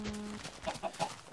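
A chicken in the game Minecraft gives three quick, clear clucks in a row, close and alone, following a brief tonal game sound.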